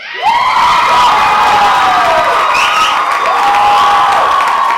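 Audience applause and cheering fill a faculty showcase hall at an arts school, a dense, steady wash of clapping with whoops and shouts rising through it, loud and sustained from start to finish.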